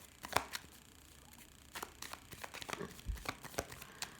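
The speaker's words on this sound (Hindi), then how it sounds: "मैं शफल कर रही हूँ" Tarot cards being shuffled by hand, heard as soft, sporadic flicks and papery riffles in short bursts, fairly quiet and close, with no talking.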